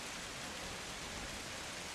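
Rain falls outside as a steady, even wash of broadband noise at a low, constant level, with no other sounds standing out.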